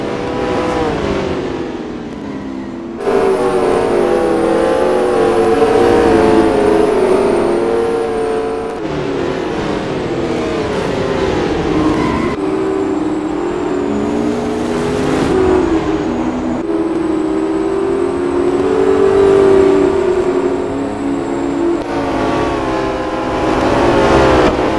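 McLaren P1 supercar in the Real Racing 3 racing game, its engine loud and steady with rising and falling revs and gear-shift steps through a continuous run, accompanied by game music.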